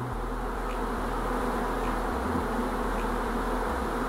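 Dark bees, some black with gray stripes, buzz steadily and close outdoors, with a continuous low hum and no talking.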